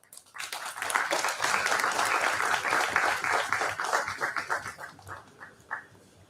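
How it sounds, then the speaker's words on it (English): A seminar audience breaks into loud, sustained applause, dense clapping that carries on for several seconds and thins out toward the end. "Ladies and gentlemen, a huge round of applause"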